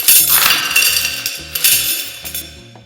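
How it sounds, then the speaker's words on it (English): Metallic coins clink and rattle down a drain in quick, busy bursts, tumbling and jangling close up with no voices. "I really recorded money going down the drain."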